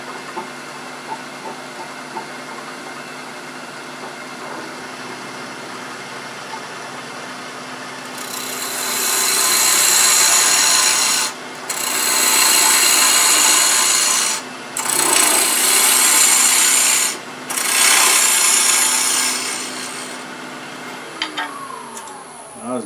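A skew chisel takes an aggressive peeling cut on a wood lathe while turning a multi-axis wooden bird, making loud, bright shaving bursts in four long passes separated by short pauses over the steady hum of the lathe.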